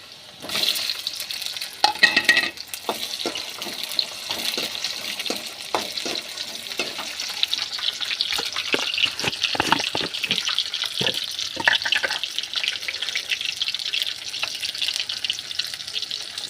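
Tomatoes frying in a pan for garlic chutney give a steady sizzle, with stirring scrapes and clinks dotted throughout, heard close and alone with no talking.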